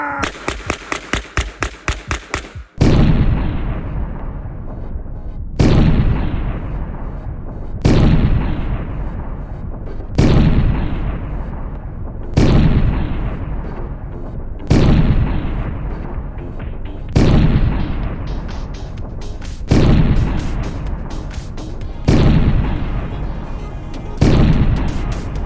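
A cheap carbine fires 115 grain ball ammunition from its original 10-round magazine outdoors, with about nine loud, sharp shots spaced a few seconds apart, each ringing out with a long decay, after a brief rapid rattle at the start.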